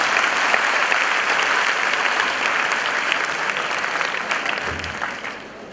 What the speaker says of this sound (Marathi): मला वाटतं टाळ्या वाजवायला पाहिजे एवढं सगळं बोलल्यावर